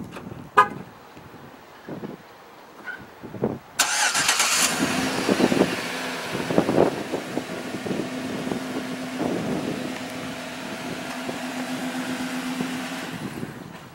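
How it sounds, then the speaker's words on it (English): 2012 Chevrolet Silverado 1500 pickup started by remote start: a few short clicks and a brief horn chirp, then the engine catches and settles into a steady, fairly loud idle hum that continues to the end, without talk. "remote start"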